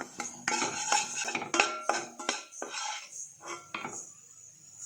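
A metal spoon scrapes and clacks against a pan as flour roasts for Ashoka halwa, a Diwali sweet, making irregular close clinks and scraping strokes with no voices.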